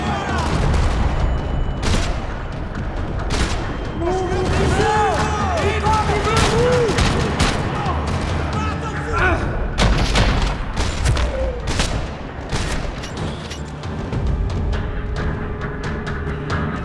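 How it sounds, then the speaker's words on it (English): Rapid bursts of gunfire and explosions crackle in a parking lot in Max Payne 3, amid a busy game soundscape, with scattered booms and faint shouting voices throughout. "Another parking lot rattling with gunfire."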